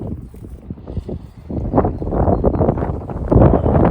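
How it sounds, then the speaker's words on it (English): Gusty spring wind on Sweden's west coast buffets the microphone in a rough, loud rumble that rises and falls in irregular bursts and grows stronger toward the end. "I'm sorry if the wind disturbs the video"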